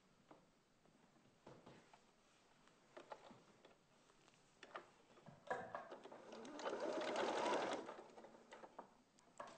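A sewing machine stitches face pieces together along the top seam with a quiet, rapid mechanical whirr and ticking that swells in the final few seconds, heard close up amid small handling noises.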